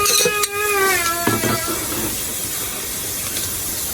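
Ginger and white onion are tossed into a hot pan while cooking a meat curry and sizzle with a steady, close hiss that follows a brief clatter of the pieces going in, with some background tones at the start.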